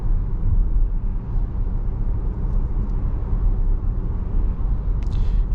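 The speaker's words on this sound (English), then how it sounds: "You do get a little bit of a rolling noise from the tires, but it's a very muted sound." Inside a 2023 Audi Q5 45 Premium Plus on the road, a muted, low tire rolling rumble holds steady and subdued throughout, with a faint brief hiss near the end.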